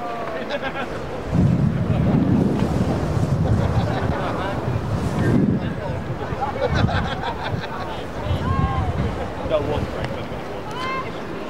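Steady wind buffets the microphone throughout at a Malta vs Bulgaria football match, with gusty surges rising and falling. Distant voices can be heard faintly underneath.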